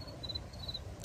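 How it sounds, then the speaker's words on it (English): Crickets chirp in a garden with kiddie pools, a thin, high, steady trill repeating in short bursts over a soft background hush, fairly faint and with no voices. "There are crickets over here."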